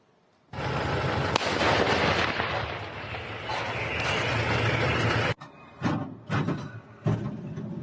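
A 152 mm self-propelled howitzer fires with a huge, sustained roar and rumble, followed by a few sharper bangs and echoes trailing off.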